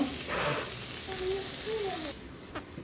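Bottle gourd greens frying with garlic in oil in a pan, a close steady sizzle that softens near the end, with a person speaking over it.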